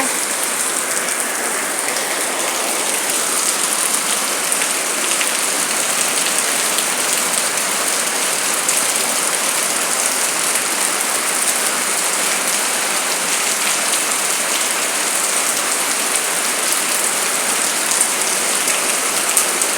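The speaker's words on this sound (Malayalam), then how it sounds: "ഇതാ മഴ. അത് തീരുന്ന മഴയായത്. സൂപ്പർ മഴ." Steady rain pours down, a dense, even hiss of drops striking surfaces that holds unchanged for about twenty seconds without any voices.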